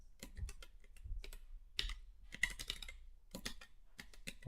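Computer keyboard typing during a programming session, quick irregular bursts of key clicks, close and quiet, with no talk.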